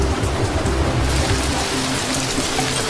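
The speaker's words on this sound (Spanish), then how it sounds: "La lluvia cayó en las montañas del valle." Steady heavy rain falls on mountains in a valley, a dense continuous hiss filling the whole stretch with no voices.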